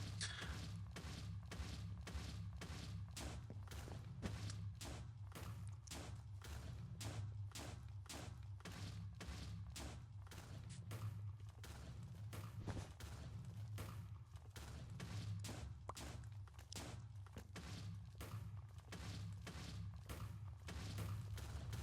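A schematic cannon in a video game fires over and over in a fast, even rhythm of sharp thuds, steady and continuous for the whole stretch, fairly faint with no talking over it.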